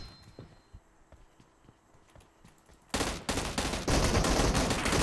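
Automatic gunfire in PUBG Mobile, faint scattered shots at first, then loud, sustained rapid bursts close by, in dense continuous strings toward the end.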